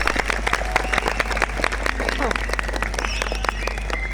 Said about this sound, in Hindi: आप लोग के जोरदार क्लैपिंग, बहुत ही शानदार क्लैपिंग के बीच।